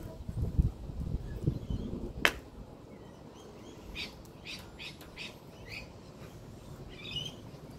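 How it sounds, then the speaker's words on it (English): A big male magpie calls in a series of short, harsh, scratchy bursts at moderate distance, following an earlier sharp click and low rumbling handling noise. "Big male magpie."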